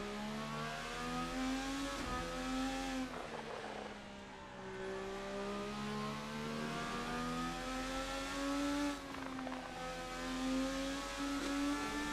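An RSS 2020 IndyCar in the Assetto Corsa racing game screams through gear changes on a lap of Laguna Seca, its engine pitch rising and dropping repeatedly, loud and close with no voices.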